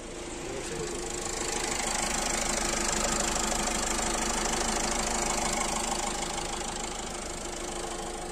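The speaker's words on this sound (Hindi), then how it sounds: "आप लोग एक बार स्टार्टिंग नॉइज सुन लो यार।" A 2015 Ford car engine runs at a steady idle after starting, a close, even, slightly knocking mechanical rumble with constant vibration and no voices.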